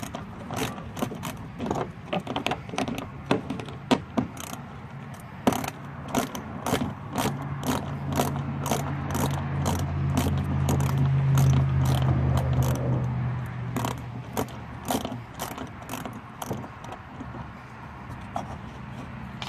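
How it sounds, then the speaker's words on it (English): A Stanley ratchet clicks rapidly as nuts holding the flare are removed from the front fender of a 2009-2014 Ford F-150, the pawl ticking in quick, uneven bursts over a low hum, close by. "This is the second Stanley ratchet I've got. After a little bit of work with them, the ratchet mechanism doesn't want to work too great and it reverses on you."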